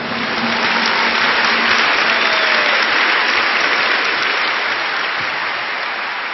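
Steady, dense applause from a church congregation, loud and continuous throughout with no speech over it.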